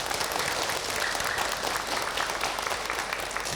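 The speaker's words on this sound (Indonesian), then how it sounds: "Tepuk tangan buat Ibu Sri Murni." An audience at a televised religious talk show claps continuously, steady dense applause filling the whole stretch with no voices over it.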